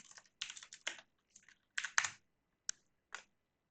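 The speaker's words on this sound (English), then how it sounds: "We're going to type get control rotation." Keystrokes on a computer keyboard while working in the Unreal Engine blueprint editor, arriving in short quick bursts of clicky taps separated by brief pauses, close and clear with no talking.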